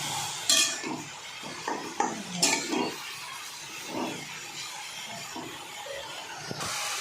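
Garlic and fenugreek greens are stirred and tossed in a hot pan, with a spatula clattering and scraping against the metal in irregular strokes over a soft background sizzle.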